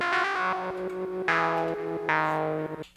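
A bright synthesizer plays sustained, layered notes with a wash of reverb, swelling with two fresh attacks before trailing off at the end.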